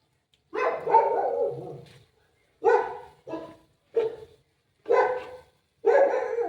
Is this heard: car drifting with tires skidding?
no